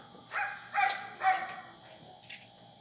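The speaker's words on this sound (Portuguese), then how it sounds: "eu tenho um cachorro que está me atrapalhando demais aqui" A dog barks three times in quick succession, nearby indoors, followed by a short higher yip, over a low background hum.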